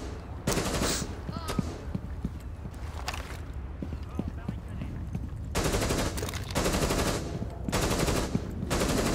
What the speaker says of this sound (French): je vois où est-ce qu'il tire